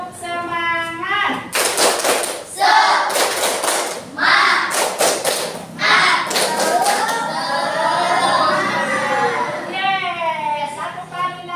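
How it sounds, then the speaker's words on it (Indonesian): Children stand and perform a rhythmic 'tepuk semangat' clapping chant in a classroom icebreaker, bursts of group claps in patterned sets alternating with chanted words and an adult voice. "Coba tepuk semangat."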